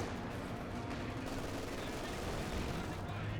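Constant, dense gunfire with machine-gun rattle fills a Company of Heroes 2 battle. It is loud and unbroken from start to finish, and a voice may sit faintly beneath it.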